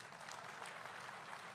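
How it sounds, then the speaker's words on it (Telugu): An audience applauds at a political gathering, steady, fairly faint clapping from a crowd that holds evenly through the moment, with no voices. "ఏంటి చప్పట్లు కూడా ఎత్తున్నారు?"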